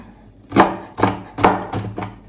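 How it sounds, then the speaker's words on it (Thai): Chili peppers are sliced with a knife on a cutting board: five crisp, evenly spaced chops, close and distinct, each with a short woody knock, and no talking. "พริก ใส่เยอะๆเลยค่ะ ซอยเป็นชิ้นๆนะคะ"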